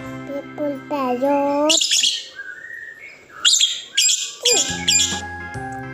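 Parrot chirps and whistles in a short sequence of bright tweets and rising calls, fairly close and clear, with no talking.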